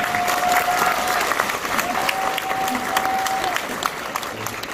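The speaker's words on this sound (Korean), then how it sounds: "수석부원장님 박수하십시오." A large audience at a Busan Democratic Party concert applauds, dense crowd clapping sustained throughout at a loud level, with a sustained tone ringing over it and a voice faintly beneath.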